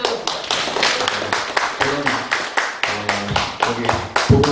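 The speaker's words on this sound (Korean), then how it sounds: "박수." Rhythmic clapping at a Korean residents' meeting in Dobong on an urban regeneration budget cut, as a district councillor is introduced; a steady run of close, loud hand claps with some speech mixed in.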